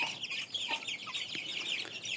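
Hens clucking softly with chicks peeping among farm fowl, a busy layer of high chirps and short clucks running throughout at close range with no talk.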